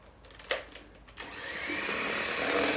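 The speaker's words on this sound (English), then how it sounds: "and we can whisk away again" An electric whisk mixes banana bread batter with oat milk, with a few clicks before the motor spins up to a steady whir.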